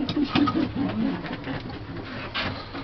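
Pigeons in a breeder's loft coo softly and repeatedly close by, the rounded calls overlapping over a constant low rustle, with no talking.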